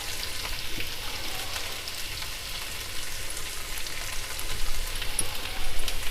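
Ginger and garlic sautéing in hot oil for Tamil kara chutney, a steady close sizzle and crackle throughout, swelling a little louder toward the end, with no talking.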